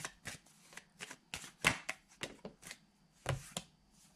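Tarot cards being shuffled and drawn in a reading, a steady run of short papery riffles and flicks close to the mic, with a couple of louder snaps and no talk.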